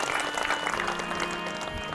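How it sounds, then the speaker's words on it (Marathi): An audience at a temple religious gathering clapping together to welcome the temple priest, a brief dense burst of applause from a crowd, moderately loud and somewhat distant, with no speech over it. "एकदा गुरुजींसाठी टाळ्या वाजवून सर्वांनी स्वागत करतो."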